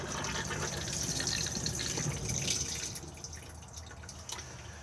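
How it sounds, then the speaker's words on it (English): A Thetford cassette toilet in an Elddis Autoquest 175 motorhome flushes, a steady rush of water running for a few seconds before easing off, close and alone. "push to flush on the blue button"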